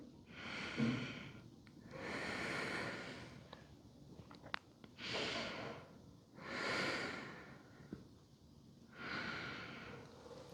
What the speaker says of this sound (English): Let's take 3 more breaths here.